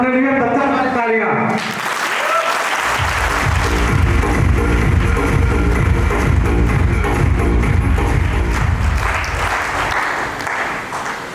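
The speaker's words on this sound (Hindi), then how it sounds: "तो एक बार अपने लिए 10 तालियां।" A hall full of people at a team function in Agra bursts into sustained, steady applause that rolls on for several seconds, with a voice heard briefly before the clapping starts.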